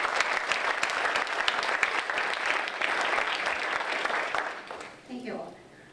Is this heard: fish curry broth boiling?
no